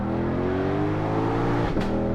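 A Ford Mustang Shelby GT500 Heritage Edition engine revs hard with a steady rising drone, then a sharp exhaust pop cracks out near the end.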